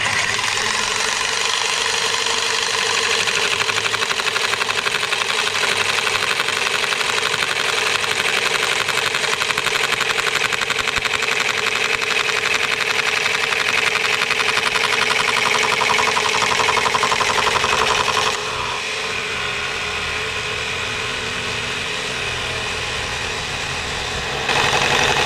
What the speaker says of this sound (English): you also want to set your speed to the lowest your jigsaw can do